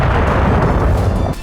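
A German Taurus missile explodes with a loud, sustained low rumbling boom that carries heavy bass for about a second and a half before starting to fade.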